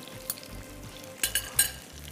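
Corn methi seekh kababs shallow frying in a pan: a soft, steady sizzle with a few brief clinks and bumps of a utensil, fairly quiet and close.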